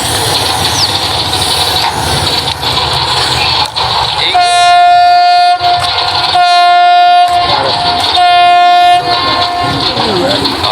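A ship's loud, deep horn blows three long blasts with short pauses between them, over a background rumble and faint voices.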